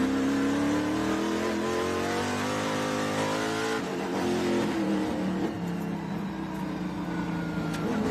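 TA2 race cars circulate at the NOLA Motorsports Park SpeedTour, several engines roaring together in a steady, sustained drone that rises in pitch under acceleration, loud and close, with shifting tones as cars jostle past.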